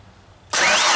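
A Genie boom lift's engine cranks and catches abruptly, going from near silence to a loud, steady running roar that holds at full level to the end.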